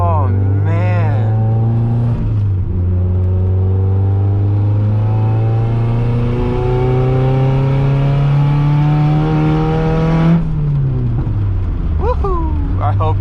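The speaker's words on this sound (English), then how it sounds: "I hope you heard that backfire." A turbocharged 1.6-litre Mazda Miata pulling hard through the gears, its engine note climbing steadily, dropping at a shift and ending in sharp backfire pops, heard loud from inside the car.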